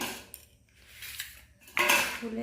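Metal pot lids clink and scrape as they are lifted off cooked home dishes in a kitchen, with a few light clatters and a louder metallic rattle near the end.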